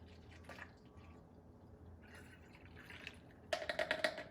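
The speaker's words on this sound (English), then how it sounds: "I'm going to pour my vinegar into the soda bottle" Vinegar poured into a plastic soda bottle: quiet faint trickling and dripping at first, then a brief burst of louder gurgling pulses near the end, heard close with no speech.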